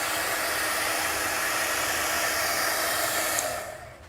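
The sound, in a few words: hair dryer blowing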